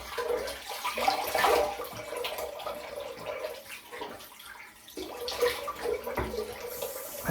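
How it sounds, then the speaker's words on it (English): Cold water runs from a tap into a bathroom basin, a steady splashing rush with gurgling shifts. It fills the background evenly throughout and nobody speaks. "So filling up the basin a second time with the cold water"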